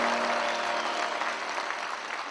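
Audience at a speech in northeast India breaking into applause, a dense steady burst of many hands clapping that fades slightly over two seconds, with no talking.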